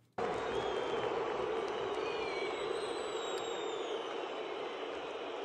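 Crowd at a Galatasaray versus Fenerbahce under-19 football match, a sustained wide roar of jeering voices that starts abruptly and holds steady, with faint whistles over it.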